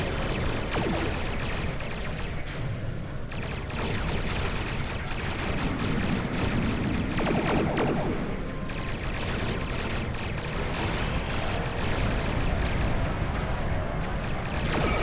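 Star Trek Online space combat with torpedoes firing and striking an enemy starship, a steady barrage of loud weapon blasts and impacts layered with rumbling explosions, continuous across the scene with faint voice lines mixed in.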